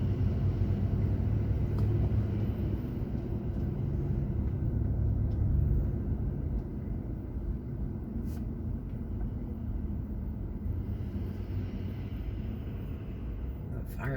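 Road traffic in Destin, Florida rumbles in a low, steady wash, louder at first then settling, with a voice talking over it.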